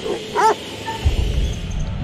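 A dog gives a short yelping bark-whimper, nearby and brief, followed by scuffling noise.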